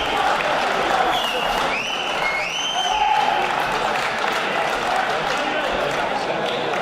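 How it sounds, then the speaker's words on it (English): Crowd at a boxing event applauding both fighters after a bout, sustained dense clapping and cheering from the surrounding audience, with whistles rising above the applause. "come on, give both your warriors in the ring a massive round of applause"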